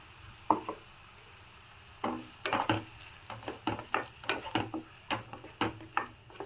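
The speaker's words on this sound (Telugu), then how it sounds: "ఇప్పుడు ఇందులోకి మనం పట్టి పెట్టుకున్న మసాలా పేస్ట్ వేసుకుందాము." Masala paste being stirred in a pan, a run of irregular scraping knocks and taps against the pan over a faint background sizzle, close and fairly loud, no talk.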